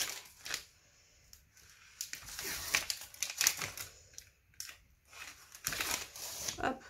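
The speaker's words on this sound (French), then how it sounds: "on va décoller l'adhésif au milieu" Adhesive backing paper is peeled and crinkled in short bursts of tearing and crackling, close up, with pauses between pulls.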